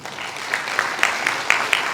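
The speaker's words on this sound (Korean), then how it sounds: "여러분 큰 박수 부탁드리겠습니다." Audience at a stock investment lecture applauding, a short burst of clapping with several distinct claps and faint background murmur.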